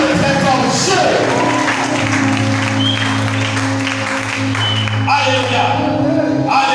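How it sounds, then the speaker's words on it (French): A church congregation cheering and applauding for God, a sustained loud wash of clapping and shouting with a sung or voiced tone held underneath for several seconds before fading. "Est-ce qu'on peut acclamer très fort Dieu?"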